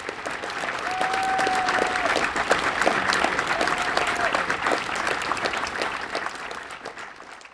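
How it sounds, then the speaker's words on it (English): Audience applause for World War II veterans and current service members at an Ames Municipal Band concert, a dense, sustained crowd clapping that holds steady for several seconds before gently tapering, with a brief tone sounding above it. "let's have a round of applause for these people, please"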